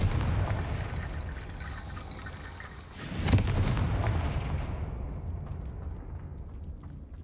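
A Confringo blasting spell in the video game Hogwarts Legacy bursts into a loud, sudden explosive boom, followed by a rumbling crackle that slowly fades over a low background roar.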